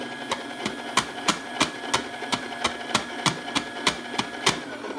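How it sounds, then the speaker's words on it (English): A Baratza Encore coffee grinder running empty, its motor humming steadily while the lid is tapped in a regular series of sharp knocks, roughly two per second, close and prominent. "I like to turn it on for a few seconds and tap the lid to get out any little grounds that I missed"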